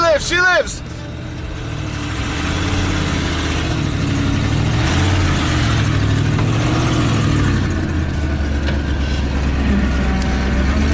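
A 1989 Ford Bronco engine cranks and catches, then settles into a steady, loud rumbling idle that runs continuously close by, with slight variations in revs.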